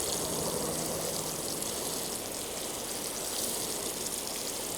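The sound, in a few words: watering newly planted garden plant into the soil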